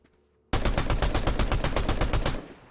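Rapid burst of ballistic variant automatic gunfire in Fortnite, about two seconds of loud evenly spaced shots that start abruptly after a near-silent moment and end with a short fading tail.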